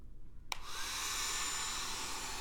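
After a brief click, a hair dryer switches on and blows with a steady, high whooshing whir, close by.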